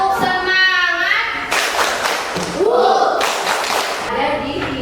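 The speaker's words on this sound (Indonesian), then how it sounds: "Ya, tepuk semangat ya." Schoolchildren in a classroom do a rhythmic spirit clap as an ice-breaker: two dense bursts of group clapping, each about a second long, alternate with a teacher's voice and children's chatter.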